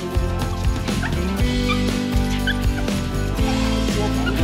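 Two small dogs inside a compact Hymer Eriba Eribelle 340 pop-top caravan bark in quick repeated yips and whimpers, close and loud, with brief pauses between bursts.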